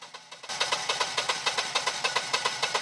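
A Generac generator engine runs steadily after starting abruptly, with a rhythmic chugging pulse repeating about five times a second, close and fairly loud.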